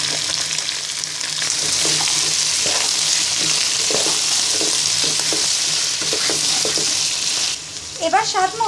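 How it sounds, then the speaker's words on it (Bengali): Sliced beans and potatoes tipped into a hot wok after fried onions, giving a loud continuous sizzle with stirring scrapes, then a brief burst of voice near the end. "এবার আমি এখানে সিম এবং আলু কেটে ভালো করে ধুয়ে নিয়েছি। এবার কড়াইতে দিয়ে দিব।"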